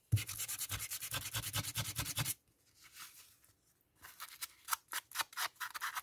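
Paper is creased and rubbed by hand for a junk journal: a quick run of rhythmic scratchy strokes, a short quieter pause, then more brisk rubbing passes, close and crisp.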